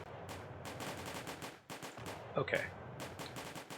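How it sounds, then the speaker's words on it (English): Cannon fire in the Napoleonic Wars game Combat Directive sounds as a rapid series of muffled booms and cracks, fairly faint, with a brief spoken word from a player partway through. "they don't like the cannon fire"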